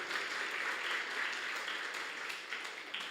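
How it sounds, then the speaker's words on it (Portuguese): Church congregation at an evening service applauding steadily, a dense wash of many hands clapping at a moderate distance, fairly quiet, without a break for about three seconds. "Bora aplaudir o Senhor mais uma vez."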